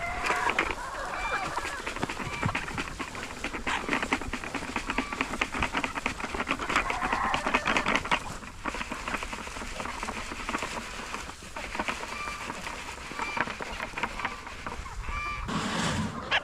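A pasture-raised flock of chickens clucks and chatters continuously nearby, a busy flock calling over a steady outdoor farm background.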